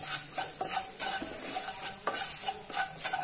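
A potato mixture with turmeric and salt is stirred in a pan, soft rhythmic scraping strokes repeating every half second or so over a faint sizzle, fairly quiet and without talk.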